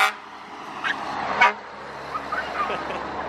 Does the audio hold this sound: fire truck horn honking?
yes